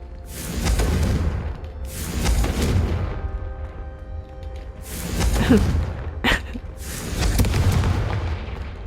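Confringo fire spell blasts in Hogwarts Legacy, four booming whooshes spaced a second or two apart, each swelling and fading, with a short sharp crack between the later ones.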